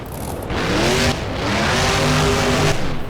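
A monster truck engine roars and revs steadily in the BeamNG driving game during a Monster Jam freestyle run in Tampa, climbing a ramp, with loud, continuous mid-range engine drone and rising harmonics throughout.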